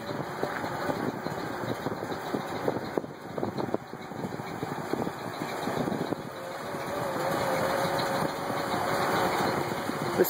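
A 1988 Ford F-350 one-ton dump truck idles steadily while its bed is lowered through a PTO system, a continuous close engine drone with faint mechanical clunks that grows slightly louder toward the end.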